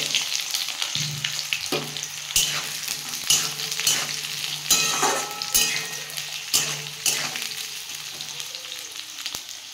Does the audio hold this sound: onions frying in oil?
yes